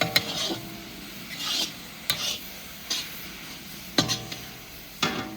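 Carrots for gajrela roast in desi ghee while a spoon scrapes and stirs the pan in about six separate strokes, each a short rasping scrape with a faint sizzle between them, close by and without talking.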